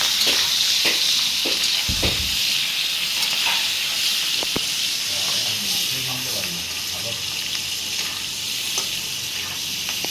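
Prawns fry and are stirred in a pan of hot oil, giving a loud, continuous close sizzle and hiss with occasional scraping clinks from the stirring.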